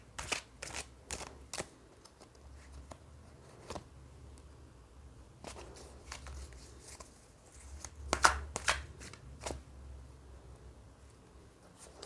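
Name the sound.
shuffling tarot cards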